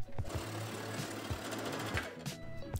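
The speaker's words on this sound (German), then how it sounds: "nähe dann einmal möglichst gleichmäßig diese komplette Rundung entlang bis zum Ende" A sewing machine runs steadily along a curved seam on a gathered top or dress, its rapid needle chatter continuous and close, with a brief pause near the end.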